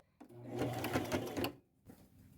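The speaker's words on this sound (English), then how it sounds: "I have a little gap here still, and I need to sew that shut" A sewing machine runs in a steady rapid burst for about a second and a half, stitching a small gap shut on a thrifted boho garment, then stops into near silence with a faint later rustle.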